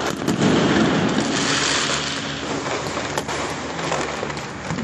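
Dense, continuous crackling of many firecrackers bursting at once during Kali Puja night in Kolkata, loud and sustained, with a few sharper pops standing out.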